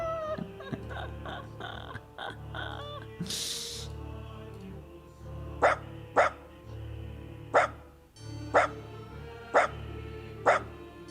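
A dog-like creature in an Unreal Engine game lets out a series of sharp, loud barks, roughly seven evenly spaced yelps over game music and ambient tones, with no one speaking.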